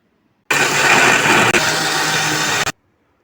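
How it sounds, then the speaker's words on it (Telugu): A kitchen mixer grinder (mixie) whirs loudly and steadily for about two seconds, dips briefly, runs on, then cuts off with a short final burst; no voices. "ఇంక నేను ఇప్పుడు మిక్సీ పట్టుకొని వస్తాను"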